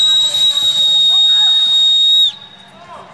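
A sustained, shrill whistle blows loudly and steadily for about two seconds, then cuts off, with a murmur of voices and background chatter running underneath.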